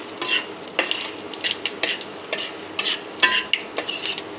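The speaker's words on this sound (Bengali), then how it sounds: "আমি এর মধ্যে গোটা মশলাগুলো সব অ্যাড করে দিলাম।" Whole mustard seeds, fenugreek and fennel hitting hot oil in a pan, bursts of crackling sizzle with sharp metallic stirring clinks in an irregular rhythm, close and clear.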